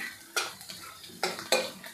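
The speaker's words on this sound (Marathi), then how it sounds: "यामध्ये घालायचं आहे आपल्याला अगदी थोडीशी हळद आणि आपल्याला हे मिक्स करून घ्यायचं आहे" Metal spoon stirring turmeric into lentils frying in oil in a pan, with a few distinct scraping clinks against the vessel over a soft background sizzle, close and moderately loud.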